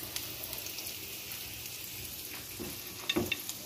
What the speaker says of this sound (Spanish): hoy lo vamos a poner aquí en la fridera con un